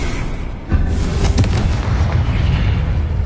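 Explosive spell blasts in Hogwarts Legacy, loud deep booms and rumbling bursts stacking over a constant roar, with one sharp onset followed by sustained heavy crackle and no talking.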